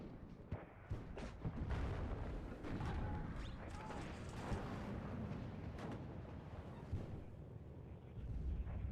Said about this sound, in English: As we see the artillery getting the kill.